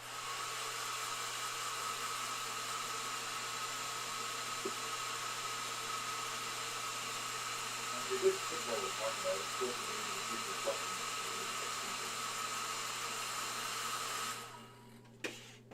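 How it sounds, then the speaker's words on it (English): A dryer blows steadily on a painted Warhammer miniature of Sigvald, Prince of Slaanesh: a constant whirring hum that runs loud and even for about fourteen seconds with a few faint knocks, then cuts off. "I'm gonna hit this with the dryer."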